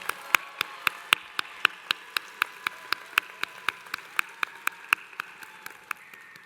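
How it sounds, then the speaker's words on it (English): At a virtual graduation ceremony, a single clapper claps alone in an even, steady rhythm, about four crisp, close claps per second over a low background hum. "Can we give them another round of applause?"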